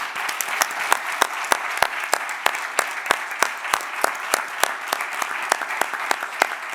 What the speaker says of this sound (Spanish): Soriano, nuestro gran director del Congreso, para el que ya pido un gran aplauso